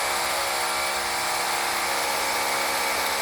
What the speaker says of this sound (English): Now that's drilling, and what they're doing is they're drilling into concrete.